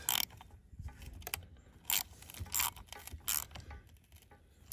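A wrench tightening the bar nut on a chainsaw, heard as a few short, sharp ratcheting bursts spaced a second or so apart, fairly close, with quieter handling clicks between them.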